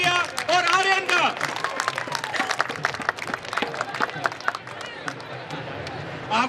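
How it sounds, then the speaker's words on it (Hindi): A crowd at the Standard Chartered Mumbai Marathon claps and cheers continuously, a dense steady patter of many hands with scattered shouts and voices mixed in. "तो जोरदार तालियों से स्वागत कीजिए टेरिया और आर्यन का"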